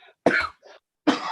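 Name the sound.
cough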